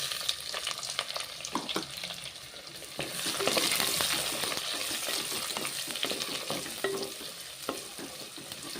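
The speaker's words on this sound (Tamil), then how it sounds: "இப்போ பொடியாக நறுக்கிய வெங்காயத்தை அதில் போடுறேன்." Finely chopped onions hit a hot pan for a Tamil bitter gourd tamarind relish, giving a steady close sizzle with scattered crackles and occasional stirring clicks, rising slightly louder partway through, with no talking.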